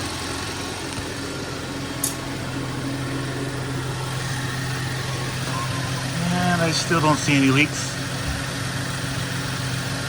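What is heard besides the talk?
BMW car engine idling during coolant bleed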